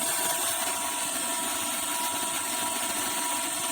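Motor running during a three-phase alternator load test in a lab, a steady loud whirring hum with a high whine, unbroken and close, with no talk.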